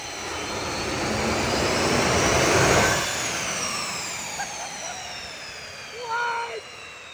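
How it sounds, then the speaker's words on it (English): A functional jet engine mounted in a custom truck build runs with a steady, loud roaring whoosh that swells and then eases, with a faint whine and brief mechanical sounds near the end. "The third engine here, the jet engine, is actually functional and it works really good."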